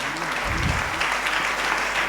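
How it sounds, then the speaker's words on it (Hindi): An audience at a Jain chaturmas religious gathering in Guna, Madhya Pradesh, claps in honour of teachers. The applause is dense and continuous, a steady crowd of hands throughout. "पहले तो उनके सम्मान में आप तालियां बजाइए।"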